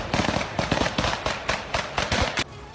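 Gunfire during fighting in a village near Kyiv in the war in Ukraine: rapid bursts of loud, close shots crackling in quick irregular clusters, like automatic fire, continuing for a few seconds with no voices.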